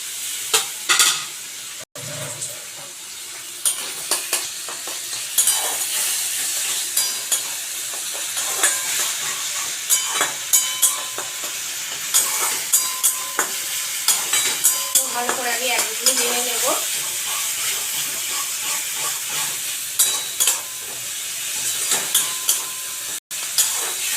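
Grated onion frying and being stirred in a wok on a home stove, with a steady sizzle under frequent scraping and clinking stir strokes throughout, no talking.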